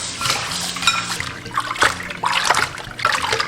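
Tap water trickles and splashes over raw pork ribs being rinsed in a kitchen, close and continuous with irregular splatters and light clinks of the bowl.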